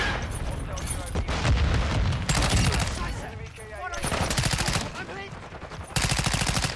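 Rapid bursts of automatic gunfire from Call of Duty: Modern Warfare crackle in loud, repeated volleys, with short pauses between strings of shots and a voice talking over the action.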